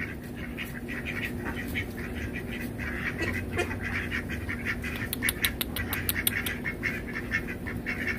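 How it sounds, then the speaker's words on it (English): Ducks quacking outdoors, a steady stream of repeated quacks and squawks over a noisy background, growing busier and sharper toward the end as a group calls together. "Quack, quack, quack, quack."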